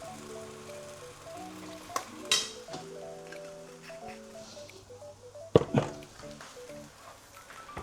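Pork sinigang simmering in a pot as fish sauce goes in, a quiet sizzle and bubbling with a couple of sharp clinks and splashes, while soft background music plays throughout.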